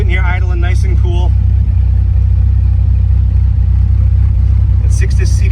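Steady low idle from a 2006 Dodge Viper Coupe engine, a loud, even rumble heard from inside the car, with a voice talking over the first second and some brief clicks near the end.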